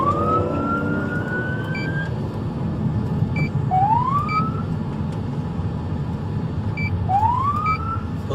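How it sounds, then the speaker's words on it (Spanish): Police car siren on an American police chase, rising wails repeating every few seconds over steady road and engine rumble, moderately loud and no talk. "En cuanto los policías encendieron la sirena"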